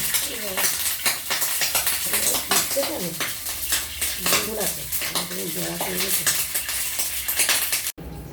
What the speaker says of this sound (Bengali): এই চিংড়ি মাছের মাথা দিয়ে বড়া হচ্ছে